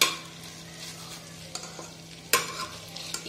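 Tandoori-style chicken pieces fry and sizzle in a pan, a soft steady hiss broken by a few sharp clinks and scrapes of stirring, with no talking.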